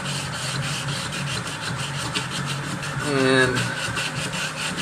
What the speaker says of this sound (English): there's really just not a better way when it comes to San Mai, unfortunately, to get it done than just to hand sand it